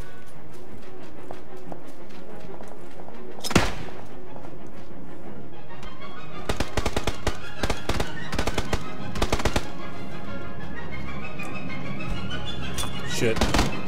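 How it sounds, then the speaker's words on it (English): Sniper gunfire in PUBG: a single sharp crack rings out early, followed by clusters of rapid shots and clattering impacts, heard fairly close amid game ambience. "We got someone else shooting from the southwest as a sniper."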